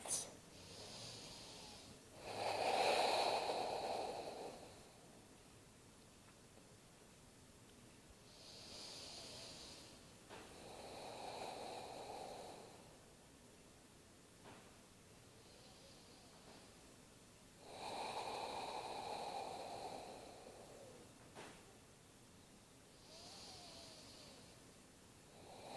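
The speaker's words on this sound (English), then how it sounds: "Let's take 5 deep breaths." A person lying in a fetal position on their left side at the end of a yoga class takes slow, deep breaths, with long soft hissing inhales and exhales repeating at even intervals, quiet and close.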